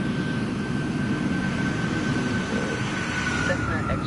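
Steady jet engine roar from an airplane taking off in Microsoft Flight Simulator 2024, a continuous broad rumble with a thin whine above it, running evenly throughout.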